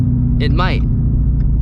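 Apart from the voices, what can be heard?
Shelby GT350 engine rumble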